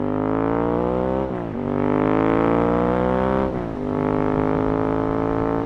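A special Ducati 916 motorcycle with a cable throttle and two large throttle bodies idles, then its engine is blipped twice, climbing and falling in pitch. The close, loud exhaust note has no talk over it.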